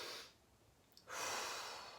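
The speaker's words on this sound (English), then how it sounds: "breathe through the stomach, through the lungs, and then let it all out" Deep breathing through the stomach during an energy-clearing exercise: a strong breathy exhale, a pause, then a long loud inhale close to the mic, with no talking.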